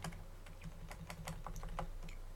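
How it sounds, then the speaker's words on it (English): Computer keyboard arrow keys are tapped in quick, irregular succession while a shape is nudged into place in an image-map editor. The clicks are soft and close over a low steady hum. "use the arrow keys to move it"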